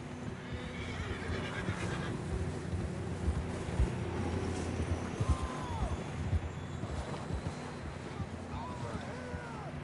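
Horses in the video game Red Dead Redemption 2 whinny and neigh several times over quiet hoof clopping and wind, the calls fairly faint and spread across the scene.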